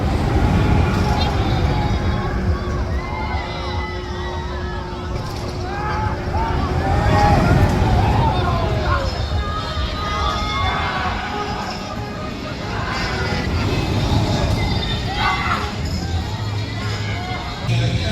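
Riding the Wonder Woman roller coaster at Six Flags Great Adventure: continuous loud rushing wind and rumbling track roar throughout, with voices and screams mixed into the noise.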